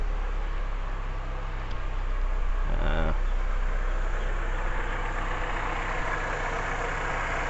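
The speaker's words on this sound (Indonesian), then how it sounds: "Ya, sekarang kita hidupkan mesinnya" A car engine idles steadily with a low constant hum throughout, a brief mechanical clatter in the middle.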